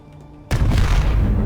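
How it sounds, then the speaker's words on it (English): Tier 3 battleship cannons fire a volley in the Space Engineers video game, an abrupt loud booming blast after a brief quiet hum, sustaining a heavy rumbling roar to the end. "Tier 3 battleship cannons on the front. Give me a volley of fire from this thing."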